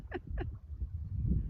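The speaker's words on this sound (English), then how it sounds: "there's a whole host of geese" Geese calling overhead as a flock flies in a long line, two clear honking calls in quick succession followed by fainter calls over a low rumbling background.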